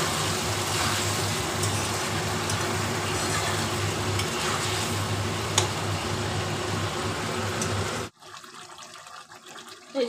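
Mutton stir-fried with fried onion and potato, a steady loud sizzle with stirring for about eight seconds, then cutting off to near quiet with a faint clatter.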